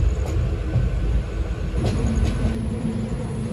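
A train rumbles loudly and continuously, with a deep steady roar and faint clicks, heard from inside a moving carriage of the Nandigram Express after leaving Sambhajinagar (Aurangabad) station.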